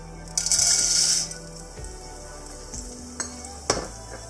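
Corn kernels sizzling in hot oil in a pan while popcorn is made, a bright hiss that flares loudly for about a second and then fades, followed by a few scattered clinks of a utensil against the pan.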